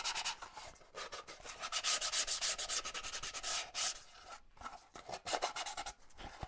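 Steady, close sanding scrapes rub cured-looking CA glue off the cowl of a Carl Goldberg Ultimate 10-300 model biplane, with continuous back-and-forth strokes that pause briefly now and then.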